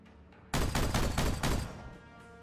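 Loud burst of rapid gunfire in the Warhammer 40,000: Regicide video game, several close rattling shots in quick succession lasting about a second and a half before tailing off.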